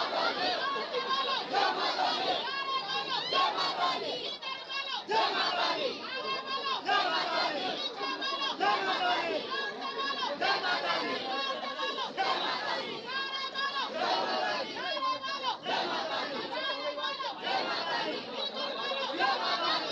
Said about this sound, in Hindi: देखिए दोस्तों कितना भीड़ है।